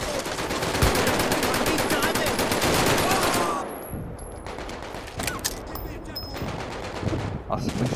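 Sustained rapid automatic gunfire blasts loudly for several seconds, then continues as scattered bursts and shots with background sounds from the VR game Medal of Honor.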